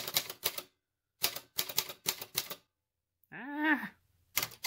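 Typing on a Sperry Rand Remington Streamliner typewriter: sharp bursts of close, loud key strikes in quick clusters separated by silences, with a short groaning vocal sound in between.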